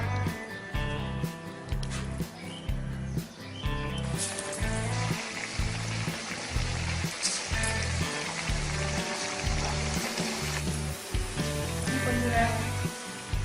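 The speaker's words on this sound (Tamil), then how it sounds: "எண்ணெய் நல்லா காஞ்சிருச்சு இப்போ வடை நம்ம தட்டி போட்டுடலாம்" Vada batter patted flat and dropped into hot oil gives a steady broadband sizzle that runs the whole time, set under loud rhythmic background music.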